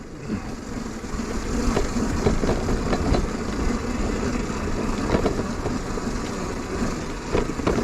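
Burromax TT1000R electric minibike riding off-road through mud, a steady continuous broadband drive noise with rough, churning texture and small bumps throughout, close and fairly loud, no talk.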